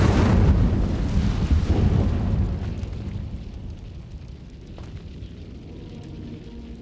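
Fire spell cast in the Hogwarts Legacy video game on Nintendo Switch: a loud, roaring burst of flame that swells at once, then fades over a few seconds into a low lingering crackle and rumble, with no talking.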